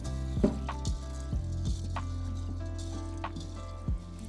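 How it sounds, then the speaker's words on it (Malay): Excess water drains from washed rice through a strainer: soft, close trickling and dripping with a few small clattering knocks, quiet and without voices. "toskan beras tu guna penapis supaya lebihan air tu keluar"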